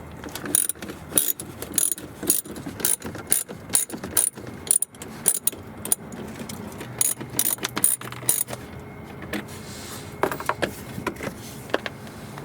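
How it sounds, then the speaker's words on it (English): A hand ratchet clicks in rapid, rhythmic bursts while screws are backed out of a plastic under-panel on a Lexus UX, near and fairly loud, with brief pauses between runs. "Now we need to remove 4 screws to remove this plastic panel."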